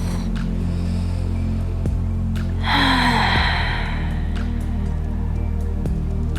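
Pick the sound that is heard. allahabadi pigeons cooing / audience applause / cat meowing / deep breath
deep breath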